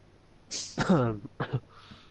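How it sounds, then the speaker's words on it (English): A single rough cough with throat clearing, close to the microphone, followed by a couple of shorter guttural bursts. "I got a terrible cough"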